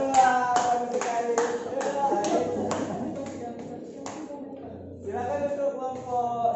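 A primary school class claps for a group of pupils, a series of sharp, evenly spaced hand claps in unison that fade toward the end, with children's voices and a teacher talking underneath.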